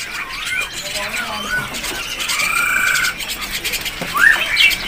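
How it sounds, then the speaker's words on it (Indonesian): A male white-cheeked bulbul calls at a busy bird market with rising and falling whistled phrases, heard mid-distance over constant crowd and market noise. "Untuk poho pipi putih kelamin jantan burung sudah goyang-goyang."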